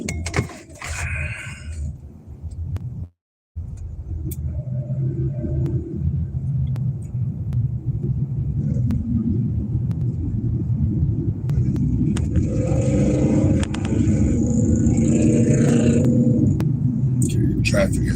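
Steady low rumble of a car driving through morning traffic on the commute to work, continuous and fairly loud throughout, with a voice talking over it and a brief dropout early on.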